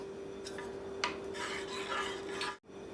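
A spoon stirs cardamom powder into a simmering bottle gourd payasam, giving soft scraping and rubbing strokes with a few brighter clinks against the pot over a steady low hum, with no voices.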